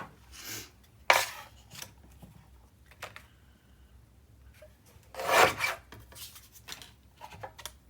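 Paper for a mini album page is scored with a tool, giving short raspy scraping strokes, a few bursts separated by quiet gaps, close and fairly crisp.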